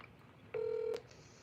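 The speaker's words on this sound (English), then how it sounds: "Put a 1 in the box if you can hear the ringing." A phone call rings as a single short steady electronic tone lasting about half a second, clear and fairly loud over low background hiss, with no talking.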